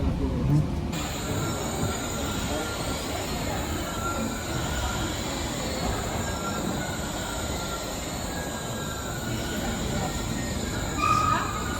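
Loud continuous noise of the Wuppertal suspended monorail with a high metallic squeal of wheels on rails near the Vohwinkel depot, steady throughout, close by.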